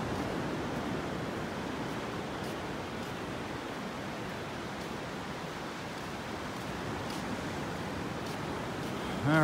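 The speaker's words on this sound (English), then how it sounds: "Still got the waves out here." Ocean waves wash onto a beach in North Naples, Florida, a soft continuous surf hiss with light breeze, fairly faint and steady with no voices.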